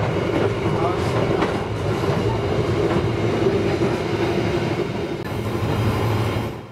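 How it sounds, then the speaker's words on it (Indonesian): The Sembrani passenger train rumbles through an Indonesian station without stopping, loud and close, wheels clattering over the rails in a continuous roar that fades slightly at the end. "kereta api Sembrani 62 akan segera melintas langsung di stasiun"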